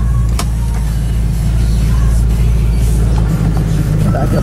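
A Maserati with an automatic transmission drives past, a steady close engine rumble and road noise throughout with a brief whine near the start.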